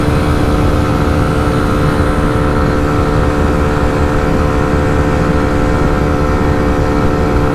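Motorcycle engines roar steadily at high revs during a drag race between a Bajaj Pulsar NS 125 and a Hero Xtreme 125, a loud continuous drone with no letup at full throttle.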